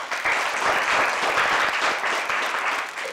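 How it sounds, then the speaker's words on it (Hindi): Audience applause at a talk show, loud, dense clapping sustained throughout, close and steady with no voices over it. "मैं चाहूंगी कि आप सभी ताली बजाएं"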